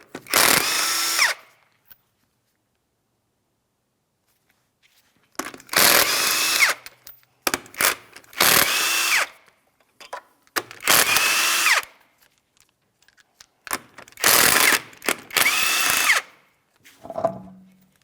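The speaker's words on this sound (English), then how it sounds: "We're using a 19mm for each of these lug nuts so we can remove the wheel." An impact power tool removing 19mm lug nuts from a Ford Edge front wheel, loud harsh bursts of one to two seconds each, about seven in all, separated by silence, with a short clatter at the end.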